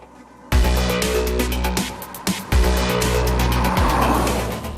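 Maruti Brezza diesel mini SUV revving hard, a loud engine roar climbing in pitch in two bursts with a brief dip between, close and alone with no talk.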